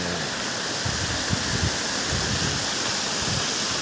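Water runs steadily in a clean restroom, a constant broad rushing wash, loud and close, with faint low patters underneath.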